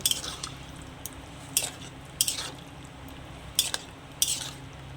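A metal spoon scrapes and clinks against a pan while spiced taro is stirred and sautéed with a splash of water, the sharp taps coming every second or so over a faint low sizzle.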